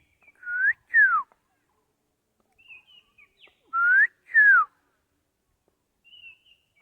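A person whistles to imitate a wild bird's call in a village woodland at evening: paired clear rising-and-falling whistled notes, repeated twice loudly and close, with fainter short whistles between and after.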